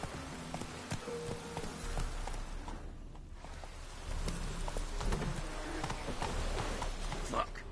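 Roach, a horse in The Witcher 3 video game, gallops with steady, fairly close hoofbeats that run through the whole stretch under a constant rain-like hiss.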